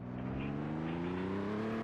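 A Mitsubishi Eclipse engine in a video game settles into a steady idle after starting, with a close, even droning hum that holds and rises slightly in pitch before cutting off abruptly.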